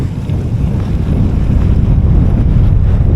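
Loud, steady wind roars and buffets against the microphone during a winter gravel-bike ride, a continuous low rumble with no pauses and no voices.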